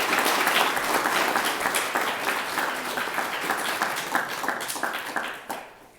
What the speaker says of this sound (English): So please give the faculty and staff a round of applause.